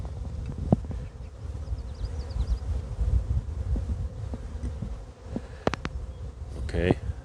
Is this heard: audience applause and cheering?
no